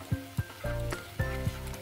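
Paneer posto being stirred as it fries in a pan, with a soft sizzle under several short scraping strokes that come in close, uneven bursts.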